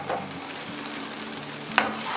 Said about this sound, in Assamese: ঘি দিয়াৰ পিছত আকৌ আমি চাউলখিনি তলপৰ কৰি দিম।